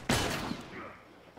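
Gunfire aimed at the player in The Last of Us on PS4, set in Pittsburgh: one sharp, loud shot or short burst that rings off into a decaying tail, with no other sound.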